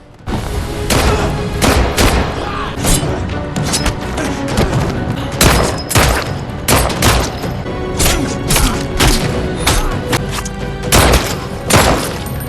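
Explosions and bursts of gunfire crash through an action film scene as men are mown down. Loud, dense rapid shots and heavy booms repeat throughout, with no pause in the fighting.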